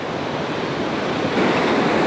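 Rough sea surf with whitecaps, churned up on a fishing shore, roars as a loud, continuous broadband wash. The roar swells slightly toward the end, mixed with gusty wind buffeting.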